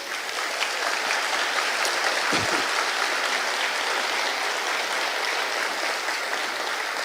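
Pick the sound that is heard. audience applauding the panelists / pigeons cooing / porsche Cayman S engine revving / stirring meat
audience applauding the panelists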